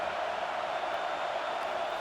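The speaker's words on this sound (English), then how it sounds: "Decibels rising as the crowd gets behind this defense on 3rd down." Crowd at a college football stadium, Arizona at Utah, roaring in support of the defense on third down: a steady, dense wash of cheering noise that holds at an even loudness throughout, with no voices standing out.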